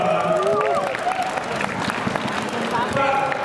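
A crowd claps and cheers for a three-time world champion overclocker at a graphics card launch event, brief applause mixed with chatter and voices close by.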